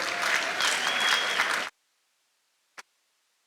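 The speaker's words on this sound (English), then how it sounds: "a round of applause?" An audience at an anniversary gala for a development bank applauds with a dense, loud burst of clapping that stops abruptly, followed by silence and a single faint tap.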